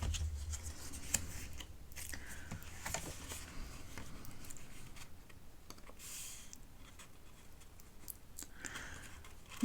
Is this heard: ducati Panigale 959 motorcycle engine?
no